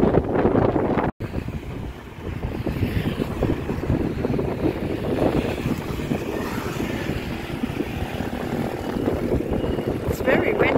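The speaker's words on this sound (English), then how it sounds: "It's very windy since I got here as well." Strong wind buffets the microphone outdoors at a busy tourist viewpoint, a steady low roar that persists throughout with brief gust peaks and one sudden dropout near the start.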